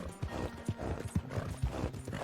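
Horse hooves clip-clop in a steady, even riding rhythm in a video game, each step a distinct thud, close and moderately quiet.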